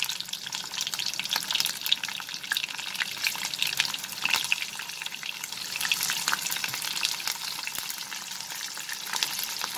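Onions frying in hot mustard oil give a dense, even crackling sizzle that runs through the whole stretch, close and unbroken, with no voices.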